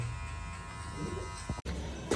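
Electric hair clipper buzzing steadily at a barber's during a haircut, close and continuous with a brief dropout near the end.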